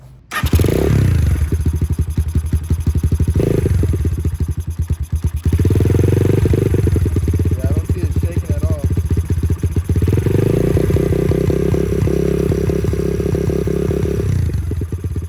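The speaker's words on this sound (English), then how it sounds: "I wanted to turn on the bike, make sure it's not rattling, not shaking, not scratching" A small SSR 189 pit bike engine idles loudly and steadily nearby, revving up a few times with rattling mechanical chatter throughout.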